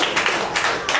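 Audience at a comedy club show clapping in a brief burst of applause, dense sharp claps up close with no talk over it.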